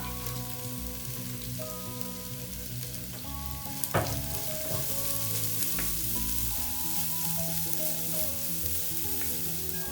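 Chopped green chillies and curry leaves fry in hot oil in a pan for a Kerala-style pork fry, a steady crackling sizzle with a sharp spatter around the middle and occasional stirring, close and alone.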